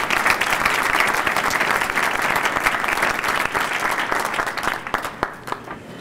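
A crowd at a university student union reopening applauds the mayor with loud, sustained clapping that thins out near the end into a few scattered individual claps.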